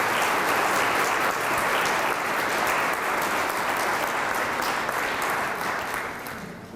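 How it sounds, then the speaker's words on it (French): A church congregation welcomes priests at a Sunday morning service with loud, dense, sustained applause that holds steady throughout and tapers slightly at the end. "je vous demande de les accueillir par vos applaudissements"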